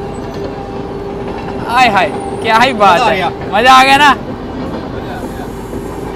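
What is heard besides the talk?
Patna Tejas express train passing on parallel track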